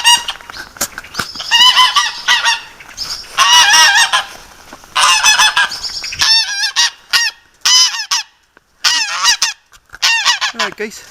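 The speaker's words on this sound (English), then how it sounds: "Alright, geese." Geese honking loudly and close by beside a green corridor railway walk, repeated harsh calls in overlapping bursts with short pauses between them.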